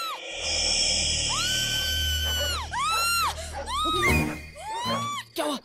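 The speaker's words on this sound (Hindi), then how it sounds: "कुछ तो हुआ है, साले चिल्ला क्यों रहे?" Several people in a Hindi comedy film scene scream loudly and repeatedly, overlapping rising and falling shrieks that break off in short bursts toward the end.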